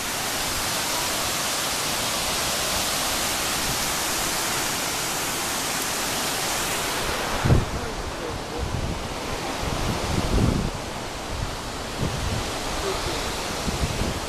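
Steady, loud rushing water roars continuously, like a waterfall up close, at Falls Park in Greenville, South Carolina, with a few brief thumps partway through.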